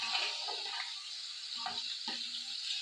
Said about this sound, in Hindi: ये 2 खाने के चम्मच मैंने लहसुन अदरक का पेस्ट डाल दिया।